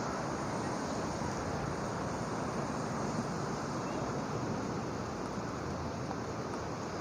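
Ocean waves at a beach in Phuket, Thailand, a steady broadband wash of surf that holds constant throughout, mixed with wind rumbling across the microphone.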